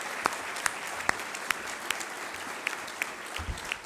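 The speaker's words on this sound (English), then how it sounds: "how about a round of applause for our speaker and Ivanka" Audience applause at a National Press Club luncheon, a steady wash of clapping with scattered sharper individual claps standing out, moderately loud throughout.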